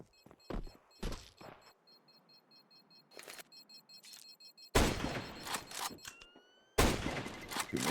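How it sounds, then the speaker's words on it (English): Sharp bursts of gunfire ring out during a Counter-Strike esports match, single cracks and short volleys early on, then two long, loud rapid-fire fusillades with metallic ringing tails, no voices over them. "Too many shots for Kvem."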